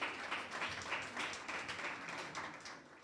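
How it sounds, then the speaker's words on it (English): Audience applause at the close of a university book discussion with an author, soft and fairly distant, a small crowd clapping steadily throughout. "A round of applause to all of you for engaging"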